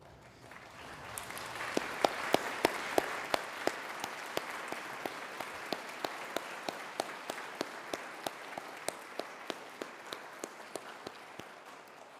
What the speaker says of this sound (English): So let's give them a really good round of applause